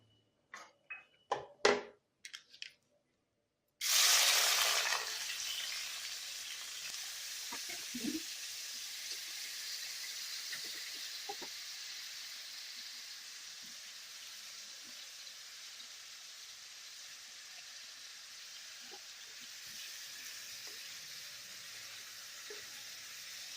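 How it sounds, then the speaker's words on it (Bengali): Prawns dropped into hot oil in a wok: a few sharp knocks, then a sudden loud burst of sizzling that settles into a steady, close frying hiss with small pops. "তেল গরম হলে চিংড়ি মাছগুলোকে আমি ভেজে নেব"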